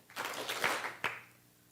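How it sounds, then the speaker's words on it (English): A youth event audience claps twice together on cue. Two sharp group claps stand out over a brief scatter of softer clapping, heard faintly in a large room. "I want you all to clap twice."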